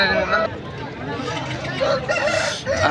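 A rooster crows loudly amid other clucking fowl at a busy country-chicken market in Mydukur, with voices chattering in the background.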